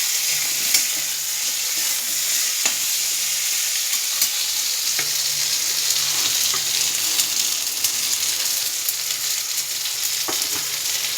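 Mango chutney with pieces of mango and a whole dried chilli is sautéed in a pan. A steady, close sizzle continues throughout, broken by occasional light clicks of stirring.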